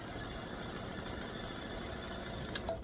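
A longarm quilting machine stitches a Camellia edge-to-edge design, giving a steady, close mechanical hum with a fast, even stitching rhythm and one sharp click near the end.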